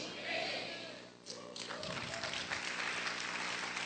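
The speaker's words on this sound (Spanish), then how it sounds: "Vamos a aplaudir fuerte al Señor" A church congregation claps during a worship service, scattered at first, then building into steady applause mixed with some voices.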